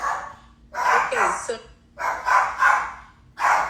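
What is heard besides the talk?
dogs barking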